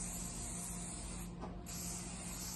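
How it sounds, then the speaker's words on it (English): A continuous broadband hiss of hairspray misted onto hair set in rollers, a steady close spray with no voices, easing briefly midway before carrying on. "for my hairspray, I'm just going to make sure I'm in arm's width from her head"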